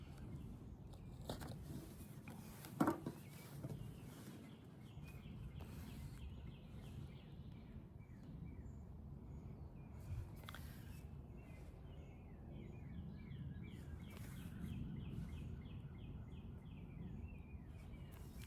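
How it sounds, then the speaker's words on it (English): Small birds chirping faintly in the evening outdoors on a patio, scattered high calls over a soft background with occasional light handling and tapping noises nearby. "Can you hear the birds?"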